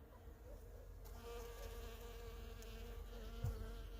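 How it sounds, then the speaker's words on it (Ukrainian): A bee buzzes steadily and close among blossoming apple trees outdoors, its drone holding at a moderate level throughout with no talking. "Бачите, бджілка трудиться."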